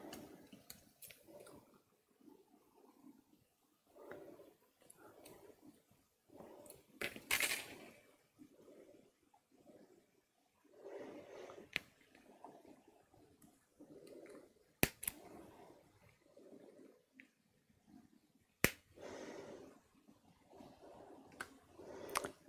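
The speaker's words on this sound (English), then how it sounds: "If you don't have a pair of metal snips, I would tell you to go buy them" Metal snips cut wire during a craft session, giving sharp scattered clicks and snaps, a few louder crisp cuts standing out over soft rustling handling noise close by.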